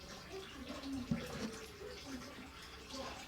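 Palm fruit stew liquid for banga soup is strained through a sieve into a pot, making a faint, continuous watery trickle and pouring sound with a few small splashes.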